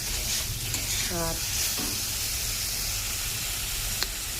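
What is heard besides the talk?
poppy seed masala frying in oil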